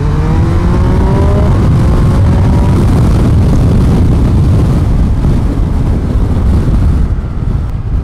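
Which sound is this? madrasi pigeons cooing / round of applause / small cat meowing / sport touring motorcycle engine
sport touring motorcycle engine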